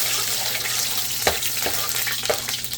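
Sugar caramelizing in a pot for a pork curry stew gives a steady, close frying sizzle, with a few sharp stirring knocks and scrapes breaking through.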